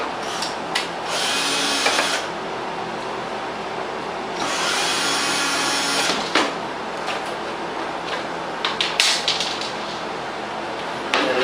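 A worn computer-style fan inside an ozone generator whirs loudly and rubs against its housing, giving a steady rough grinding drone with surges and scraping bursts, close by and with no talk.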